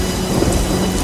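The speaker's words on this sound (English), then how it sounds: "a storm suddenly rolled in. The sky turned dark and the wind started to howl." A thunderstorm with heavy rain in an animated story, a dense, loud, continuous roar of rainfall with low rumbling thunder underneath.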